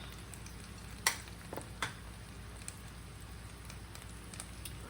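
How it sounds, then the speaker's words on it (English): Garlic cooking down in melted butter and olive oil, a steady soft sizzle running throughout with a few brief clicks and taps of a utensil, close and quiet, no voices. "Let that garlic cook down a little bit."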